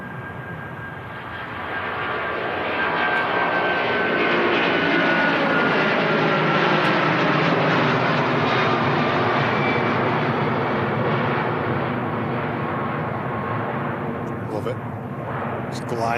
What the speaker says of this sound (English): Gliding off the runway, the A330. Yeah, it sprung off the ground, didn't it?